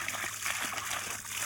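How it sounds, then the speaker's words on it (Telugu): Irrigation water flows through a village vegetable field near okra plants, a steady close splashing trickle that runs without pause and with no voices over it. "నీళ్ళు పోతున్నాయి"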